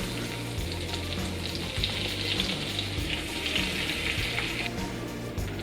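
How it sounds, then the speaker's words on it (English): Something cooks in a medium frying pan in a mix of butter and oil over medium-low heat, giving a steady, close, continuous sizzle and crackle throughout, with a low rhythmic hum beneath and no voices. "you want a sort of medium-sized frying pan, some butter and some oil mixed together, and just on sort of medium-low heat, and well, cook them"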